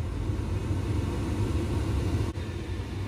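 A Mahindra Scorpio's climate control fan runs at high power, a steady, even broadband whoosh of rushing air with a low cabin hum, continuous throughout with a brief dip near the end, no talking.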